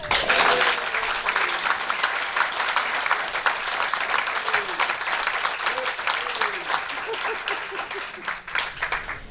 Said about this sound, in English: a massive round of applause for Henry, who has inspired us all to be here